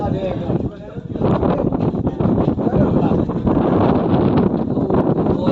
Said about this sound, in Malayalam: നല്ല തണുത്ത കാറ്റാണ് കേട്ടോ വീശിന്.